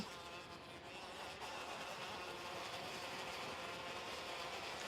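Racing karts in a CIK FIA KF European Championship final pass on the track, a faint, steady engine drone with a slight swell partway through.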